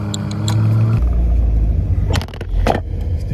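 A car engine rumbles steadily at close range, a low droning hum with a shift in pitch after about a second, then brief clatter and rustling near the end.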